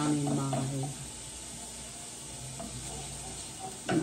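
Turkey burger meat browns in a pan with a steady close sizzle, broken by scraping and stirring at the start and again near the end, with a voice speaking briefly underneath.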